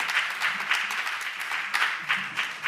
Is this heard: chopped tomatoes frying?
no